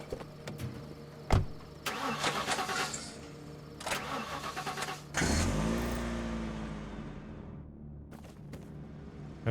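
After a repair in the video game The Last Stand: Aftermath, a car engine cranks with a few clicks and whirs, then catches and roars to life, settling into an idle that fades out, with no talking.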